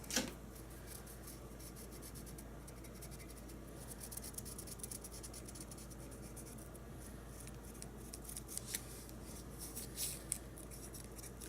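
A marker or pen traces a pattern around pre-marked dots on a Halloween luminary jar, giving a steady soft scratching and rubbing texture throughout with small irregular strokes, close and fairly quiet.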